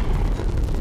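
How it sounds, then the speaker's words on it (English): Dense, rumbling burst of distant gunfire in Apex Legends, a continuous roaring blast without clear individual shots. "someone's shooting"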